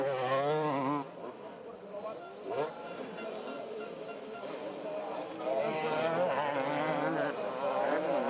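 Motocross motorcycles, a KTM and a Yamaha, race in an EMX300 event at the MXGP of Czech Republic, engines revving and rising in pitch, heard under a commentator's steady talk.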